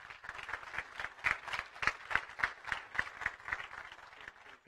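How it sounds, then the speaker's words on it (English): A congregation claps for its church leaders at a service, the sharp individual claps loosely in rhythm and fairly close, at moderate volume throughout. "Let's give them a round of applause."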